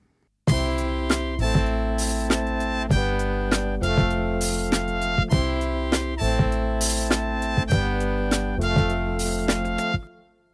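A three-piece horn section of trumpet, tenor sax and trombone plays block triadic chords, the trumpet an octave above the tight lower voices, in a series of punchy, evenly spaced accented hits held loud and alone for about ten seconds.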